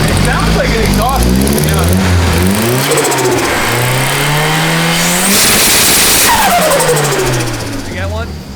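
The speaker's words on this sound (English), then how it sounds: "It sounds like an exhaust." Tuned car with a built Monster KA-T engine, loud close exhaust revving up and down in rising and falling sweeps with a crackling burst near the end, voices faintly audible underneath.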